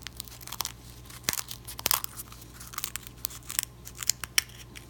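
Scissors snip around the lip of an Akoya pearl oyster shell, giving a series of close, sharp crunching cuts at an uneven pace over a faint background hum.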